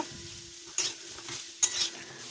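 Soya chunks fry in oil in a pan, a soft steady sizzle punctuated by two sharp scraping stirs of a spatula against the metal, close and fairly quiet with no talking.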